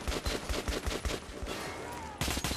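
Rapid bursts of gunfire from the video game Metro Last Light Redux on Xbox Series X, loud and close, with a brief lull of rumbling ambience before another burst of shots.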